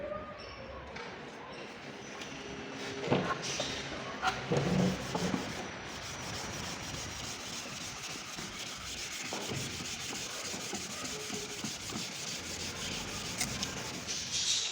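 Steady abrasive rubbing of sandpaper on a yellowed car headlight lens, continuous and close, with a few faint knocks.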